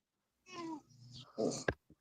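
A cat meows indoors, a short wavering call followed by a second brief cry, fairly faint with a quiet room around it and no talk over it.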